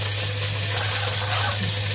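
Vermicelli frying in a pan with almonds and raisins for Eid, a steady close hiss and sizzle with no pauses and a low electrical hum underneath.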